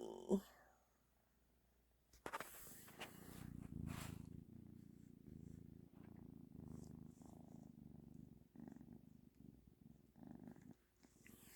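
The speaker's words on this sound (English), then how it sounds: "She's got one of the coolest purrs. It's like really loud." Close up, a cat purrs in a loud, steady low rumble that runs for several seconds after a brief rustle.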